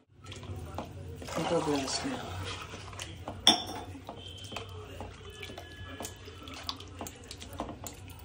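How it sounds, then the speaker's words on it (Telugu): Water pours into a metal pot with splashing for pani puri water, and utensils clink and clank against it, one sharp knock standing out midway. "ఇంకా కొద్దిగా నీళ్ళు కూడా పోతాం"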